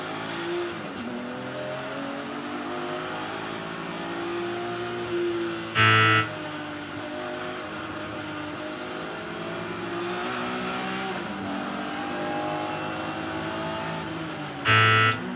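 BMW race cars rev their engines at the start of a Kumho BMW Championship race at Brands Hatch Indy, with oil on the track. The engine tones rise and fall from inside a car, and two brief harsh bursts cut through.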